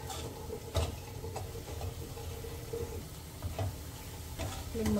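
Pav bhaji masala frying in oil in a pan, a soft continuous sizzle broken by repeated clinks and scrapes of a spoon stirring, fairly quiet and close with no talking.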